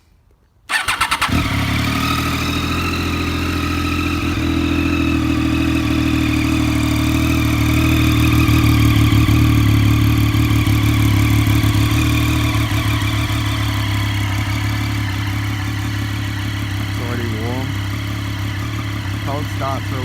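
A Triumph Daytona 675 motorcycle engine starts, then settles into a steady, loud, close idle that holds evenly until the end.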